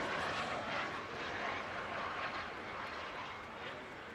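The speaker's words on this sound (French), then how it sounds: "Et les avions viennent un à un, collégialement se poser sur la piste mythique du Bourget" Patrouille de France jet aircraft come in to land at Le Bourget during the air show, a steady, broad roar of jet engines that holds loud throughout without pause.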